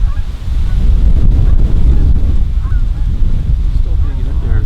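Wild geese honk loudly and repeatedly during a goose hunt in the wilderness, close calls over steady wind noise on the microphone.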